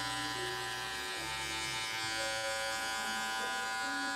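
Electric hair clippers with the lever open buzz steadily through a double zero fade on difficult straight hair, a close continuous hum with slight shifts in pitch as the blades move over the head.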